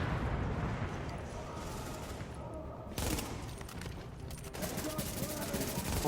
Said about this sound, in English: Taking these enemies out with this SMG. Fire coming at us, we're gonna eliminate that.